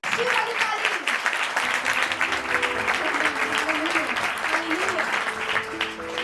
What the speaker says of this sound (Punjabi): Give beautiful claps to God.